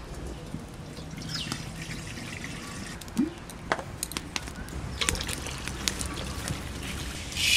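Red lentils (masoor dal) are washed by hand in water, giving soft trickles, drips and intermittent splashes over a quiet background, with no talk.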